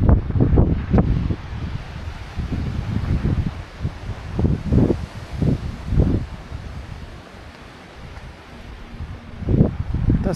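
Strong wind gusting over a hillside above a village in the Var, roaring and buffeting the microphone in repeated loud bursts, with no voices.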